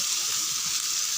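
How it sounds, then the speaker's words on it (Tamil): Chopped onions sauté in hot oil with a constant, even hiss for a chutney, a steady close sizzle with no breaks and no voices. "வெங்காயம் வதங்கினா போதும்."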